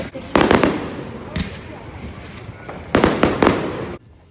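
Fireworks explode at an outdoor 4th of July celebration, several loud close bangs in quick clusters over a steady crackling, hissing background, with people talking faintly.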